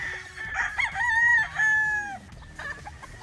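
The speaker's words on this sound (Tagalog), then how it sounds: "Pakita lang tayo ng ilang manok." Fighting stag roosters at a booth crow close and loud, one full cock-a-doodle-doo rising and trailing off, with softer clucks and calls from other birds around it.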